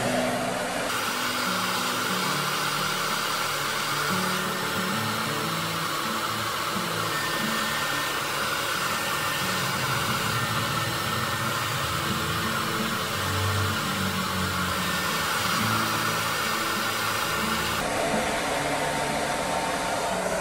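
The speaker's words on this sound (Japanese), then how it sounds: "まっすぐ下ろして乾かす。" A hair dryer blowing on hair during a stylist's drying and styling routine: a loud, steady whooshing motor hum and airflow running almost without change, cutting off near the end, close to the microphone.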